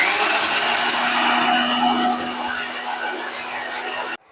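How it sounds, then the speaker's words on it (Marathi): A mixer grinder runs at full speed grinding dry masala for a prawn gravy, a loud, steady, close whirring roar that holds and then abruptly cuts off near the end. "ड्राय मसाला आपण आधी मिक्सरमध्ये लावून वेगळा फिरून घेणार आहे,"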